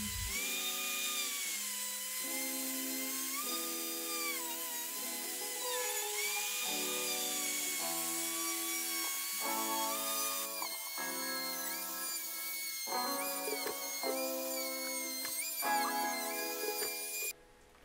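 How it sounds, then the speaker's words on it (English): A router whines as its bit passes across a wood slab, a loud sustained high-pitched tone close up whose cutting note rises and falls in repeated passes before cutting off at the end. "It's important to note that your router bit depth should be no more than 1/4 inch."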